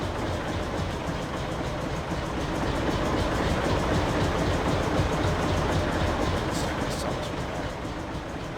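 Tractor engine audio from a Farming Simulator mod: a steady, rough, broadband rumble with a constant low drone, moderately loud and unbroken throughout, with no rhythm or speech.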